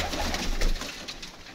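Pigeons coo softly and close by, giving a short run of low, throaty calls over a faint background hum.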